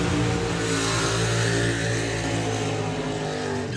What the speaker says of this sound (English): Two good strong burnouts there for Colin and from Rob.